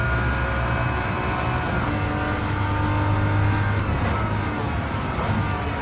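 A Datsun Z race car in Gran Turismo 7 drives hard, its engine droning loudly and continuously with shifting revs and faint tire noise and no pauses.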